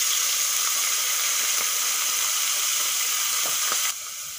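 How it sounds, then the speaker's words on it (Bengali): Prawn shells and heads fry with turmeric and salt in hot oil, giving a loud, dense, continuous sizzle with a few faint stirring taps. The sound drops suddenly near the end, and no one speaks. "চিংড়ি মাছের খোসা আর মাথা আমি হলুদ আর লবণ দিয়ে ভালো করে ভেজে নেব।"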